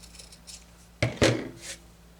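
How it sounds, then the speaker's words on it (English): Scissors trim the frayed end of a piece of rickrack. Two quick, close snips sound over a quiet room, followed by a faint rustle. "I'm going to trim off the frayed bit."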